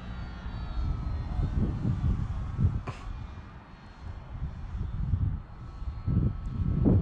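An FMS Pitts 1400mm model airplane makes a low pass on its maiden flight, its electric motor a rising and falling buzzing drone. The drone swells as the plane comes near and fades as it moves away, with wind noise beneath it.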